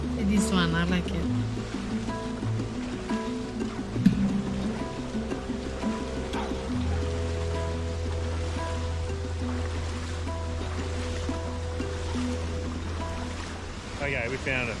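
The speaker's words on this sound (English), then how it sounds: "It's a very, very powerful waterfall." A very powerful waterfall in Bali roars as steady broadband rushing water, held under a loud, continuous layer of music with voices talking over it.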